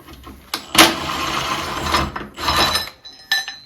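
Metal clinks, ratchet clicks and scraping come in short, irregular bursts as the foot peg and brake pedal are unbolted from a 1960 Bolens Ride-a-matic tractor. The sounds are close and loud, with no talk.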